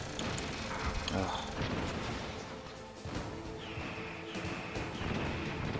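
In the PS1 game Metal Gear Solid, a boss fires bursts of machine-gun fire and missiles, heard as a dense run of booms, crashes and rattling blasts, with a person talking over the game audio.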